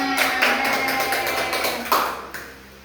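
Brief round of classroom clapping for a student during an Al-Quran Hadith lesson, a cluster of sharp hand claps that fades out over a few seconds.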